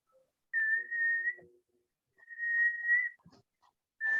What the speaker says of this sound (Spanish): Alguien está silbando.